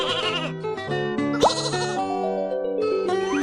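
Cartoon sheep in the Baby Panda Farm video game bleat repeatedly over bright, bouncy game music, with a louder bleat near the middle of the short stretch.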